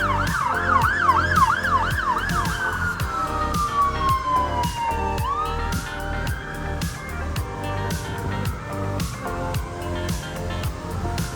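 Fire engine sirens wail past on a busy London street, a loud rising and falling tone that sweeps down in pitch as the vehicles pass, over steady traffic noise.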